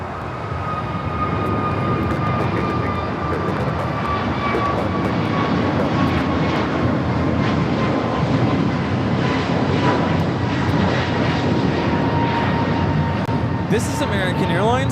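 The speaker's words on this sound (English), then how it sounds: "This is American Airlines 1657 taking off to Dallas-Fort Worth on the A321neo." An American Airlines A321neo taking off from LAX for Dallas-Fort Worth, a loud sustained engine roar lasting the whole time, with voices talking over it.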